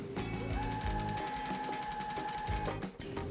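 A sewing machine chain pieces quilt blocks, its needle running in a fast, steady mechanical rattle, close and continuous with a slight slowdown near the end.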